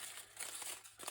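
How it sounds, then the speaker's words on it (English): A craft piece crinkled by hand to add texture gives a brief, faint, close crackling rustle of scattered crinkles lasting about a second. "give it a little bit more texture by crinkling it up"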